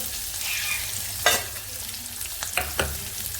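Finely chopped onions hit a hot pan after fenugreek and sizzle steadily, with a few sharp stirring scrapes near the middle and end, close and without voices.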